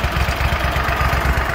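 A small engine idling at about 1,000 RPM after warming up, a loud, steady low chugging with rapid regular pulses and slight fluctuation.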